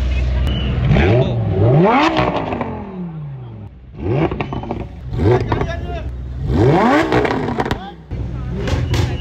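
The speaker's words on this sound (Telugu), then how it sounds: "ఏ కార్ సౌండ్ చేసేది ఒకటి. ఓ ల్యాంబోర్గిని బ్రో." A Lamborghini supercar at a Hyderabad automotive fest gives loud, close revs in three or four surging bursts that rise and fall in pitch, with crowd chatter around them.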